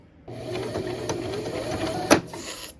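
Home sewing machine stitching slowly through sequined scarf fabric with plastic sequins, a steady close mechanical whirr with rhythmic needle clatter running for a few seconds and one sharper click near the end.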